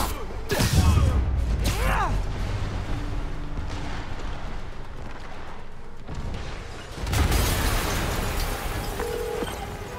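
Explosions in Marvel's Spider-Man Remastered: a heavy blast with a deep boom near the start, a second burst soon after, then rumbling debris and another loud boom later, with game voices speaking in between.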